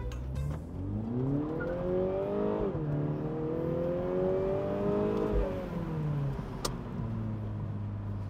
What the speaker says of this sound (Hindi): अब हैंड ब्रेक रिलीज किया और अब थोड़ा सा थ्रोटल टेस्ट हो जाए इसका।